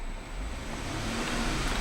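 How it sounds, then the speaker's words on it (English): A 2011 Cadillac SRX engine runs in a steady, broadband roar, heard close and continuous with a slight swell toward the end, with no voices. "I'm going to rev the engine."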